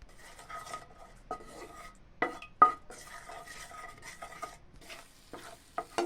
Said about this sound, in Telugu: మనం కలుపుకున్నాం కారం, పసుపు, మసాలాగా, అది అందులో వేసుకొని కలుపుకోవాలి.